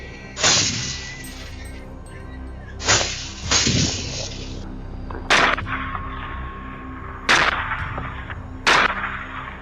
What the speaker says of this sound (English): Gunfire erupted, loud and relentless.